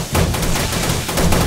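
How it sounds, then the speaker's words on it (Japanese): Dense, continuous rumble of explosions and gunfire from a feral horde night in the survival game 7 Days to Die, loud and unbroken with no talk over it. "誰の爆発音あれ。"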